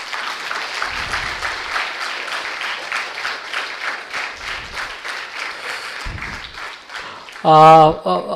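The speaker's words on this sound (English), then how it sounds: "I think he needs a big round of applause." Steady audience applause for a guest speaker at a university ideation bootcamp, dense even clapping from a crowd for several seconds before a voice speaks over it near the end.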